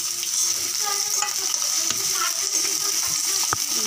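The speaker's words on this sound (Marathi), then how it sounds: "हे आलं लसूण भाजते, तपन तपून कांदा घालूया, कांदा पण छान भाजला जाईल" Ginger, garlic and onion fry in a pan for a dried-fish potato and brinjal dish, giving a steady close sizzle with occasional clicks and scrapes of stirring throughout, and no talking.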